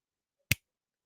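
One sharp finger snap rings out close and alone against silence.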